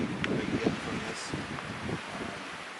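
Breezy winter wind blows steadily across an outdoor shooting range at about 0 degrees, a continuous broadband rush with gusty buffeting on the microphone and faint voices underneath.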